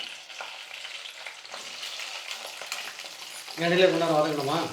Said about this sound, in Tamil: எண்ணெய் நல்லா காஞ்சிடுச்சு வெண்டைக்காவை சேர்த்துக்கிறேன்